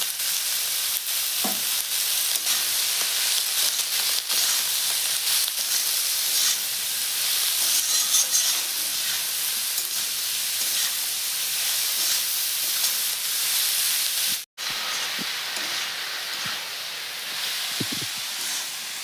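Vegetables with tomato, chili powder, turmeric and salt fry loudly and steadily in a pan for egg vegetable chowmein, with a continuous sizzle and stirring that drops out for an instant before resuming.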